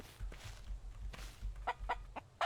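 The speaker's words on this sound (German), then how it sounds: "Du Psycho-Huhn." A chicken in the survival video game Mist Survival clucks a few times over a low rumbling background, the clucks sparse at first and then closer together, with three sharper, louder calls near the end.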